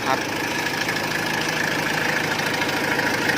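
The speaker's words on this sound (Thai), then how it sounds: "มาฟังเสียงเครื่องกันนะครับ" A 2005 Mazda Fighter 2.5 pickup's original, unmodified engine idles steadily up close, a continuous mid-pitched rumble with a light knocking rattle and no speech over it.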